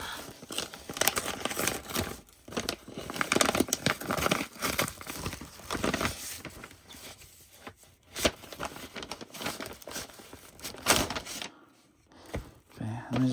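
Paper envelopes crinkle, rustle and tear in irregular bursts as they are handled and checked while sorting a large manga collection, close and fairly steady, with a voice speaking at times.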